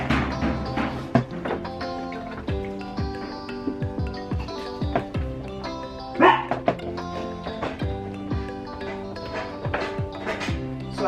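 A dog barks repeatedly at everything outside through open doors on a warm day in Arizona, sharp nearby barks and yips coming in irregular bursts over a busy indoor background.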